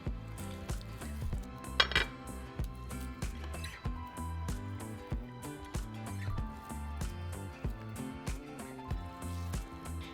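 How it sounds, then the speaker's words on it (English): Cooked chicken being shredded in a dish for taquitos, heard as repeated close metallic scrapes and clinks of utensils against the dish in an uneven rhythm, with a louder clatter early on and no talk. "we're going to start to shred our chicken"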